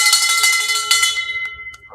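A bell rung to welcome a guest onto a podcast gives a few bright, ringing metallic strikes, close and loud, each tone lingering and fading away without talk.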